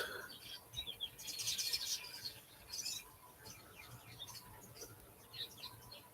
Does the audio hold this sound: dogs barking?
no